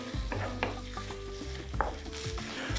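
Chunks of pork tenderloin browning in a pan on the stove: a steady close sizzle and crackle of frying, broken by a few scraping stirs of a utensil against the pan, with no talking.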